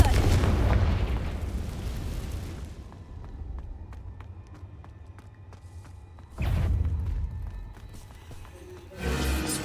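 Confringo blasting spell going off in Hogwarts Legacy: a loud booming burst that fades into a low rumble, followed by further heavy blasts later on.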